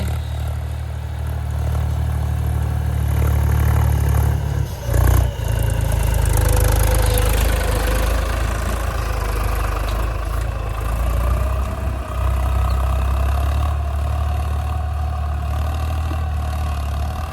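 A tractor engine idles steadily on a farm field, a loud continuous low rumble with a brief dip partway through, no voices over it.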